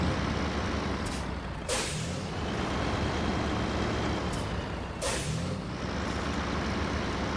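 A Navistar 5000-MV tractor unit in the SnowRunner video game: a continuous loud engine drone, broken twice by sharp hissing air brake releases, each a sudden burst of air.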